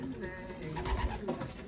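Pigeons coo softly in a racing-pigeon loft, low repeated murmuring calls under a faint background of talk and rustling.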